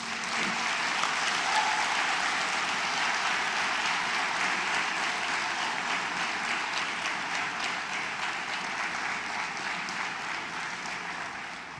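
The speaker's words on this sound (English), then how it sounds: "Let us give them all one more round of applause, please." Sustained audience applause at a 2022 departmental degree distribution ceremony, a dense, steady wash of many clapping hands lasting throughout and easing slightly toward the end, with no speech over it.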